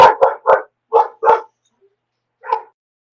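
A pet dog indoors giving a rapid run of five loud, close barks, then a short silence and one more bark.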